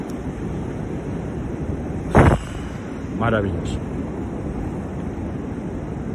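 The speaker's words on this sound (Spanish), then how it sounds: "Fijaros el sonido del mar." Sea waves roll in a steady, broad wash of surf that fills the whole clip, with a brief spoken exclamation and a second short voice partway through.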